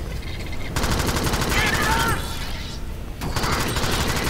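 Rapid automatic gunfire in the Alien Swarm video game, dense and continuous bursts close up, with a brief lull in the middle and a voice talking over it.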